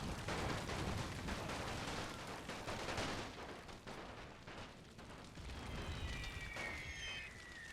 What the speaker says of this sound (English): Howitzer shots still going in, absolutely pounding the Ottoman line